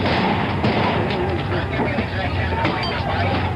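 Gunfire at police crackles amid a loud, dense crowd din during park rioting, with scattered sharp reports over a constant roar of shouting and noise.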